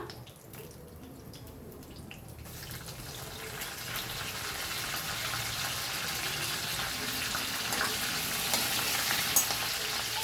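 Curry leaves, cumin and dried red chilies hit hot oil for a spinach chutney. A quiet start gives way to a steady, close crackling sizzle that builds and holds to the end.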